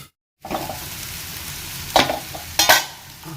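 Squid frying in a pan is stirred, a close steady sizzle broken by two or three short scraping bursts of the spoon moving the pieces, with no voices.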